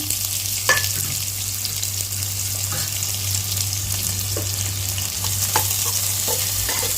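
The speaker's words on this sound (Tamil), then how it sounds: "இந்த வெங்காயம் வந்து நல்லா பொன்னிறமாக நல்லா ஒரு சிகப்பாக இருக்கிற மாதிரி நல்லா பொன்னிறமாக வர வதக்குவாங்க" Chopped onions sautéing in a pan for a drumstick masala curry, a steady close sizzle with occasional spoon stirs and scrapes, alone with no talking, over a low constant hum.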